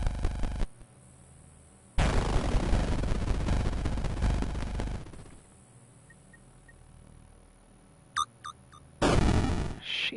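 Gunshots and explosive bursts from the video game Mothmen 1966 come as heavy, booming blasts with a long sustained roar, then a few short electronic blips and a final loud burst, no voices.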